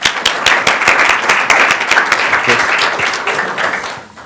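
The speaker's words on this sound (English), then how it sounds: "let's first hear from Garrett and give him a nice round of applause." An audience at a talk on the Fourteenth Amendment breaks into a warm round of applause. Dense, steady clapping fills the room for several seconds and then fades out near the end.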